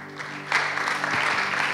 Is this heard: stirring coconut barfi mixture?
no